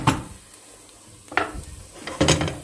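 Carrots and onions frying in a steel pot for a meatball soup, with a soft sizzle under three sharp scraping stirs of a utensil against the pot.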